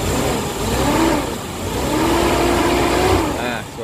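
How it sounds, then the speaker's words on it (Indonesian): A 1997 Suzuki Katana GX (SJ410) engine runs with a steady mid-pitched hum that swells in two gentle revs, continuous and fairly close, with no talk over it. "Ini suara mesinnya juga halus banget."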